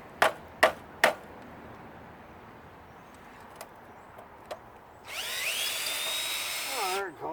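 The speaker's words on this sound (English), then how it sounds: "I'm impressed that these screws are coming out." A power drill backs screws out of a central air conditioning unit, with a few sharp clicks and taps and then a loud, close whirring spin of about two seconds.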